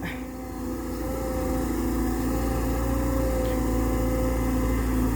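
A Caterpillar 320 GC excavator with a Cat C7.1 four-cylinder turbo common-rail diesel engine runs at a steady idle, a constant low hum and drone with a faint high whine.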